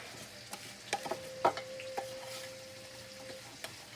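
Seasoned country fried potatoes being stirred in a pan, a soft frying sizzle with a handful of close spatula scrapes and taps, one louder knock near the middle, no talking.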